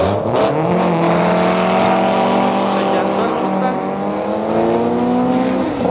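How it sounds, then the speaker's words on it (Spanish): A tuned Zuru drag racing a Mustang GT at a drag strip, engines roaring loudly and steadily with rising revs throughout, while a voice talks over the noise. "Zuru tuneado contra un Mustang."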